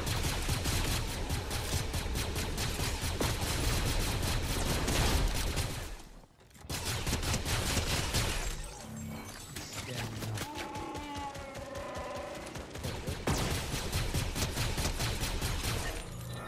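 Video game gunfire in Fortnite, rapid bursts of shots running almost continuously with a brief gap partway through, loud and busy, with game effects mixed in.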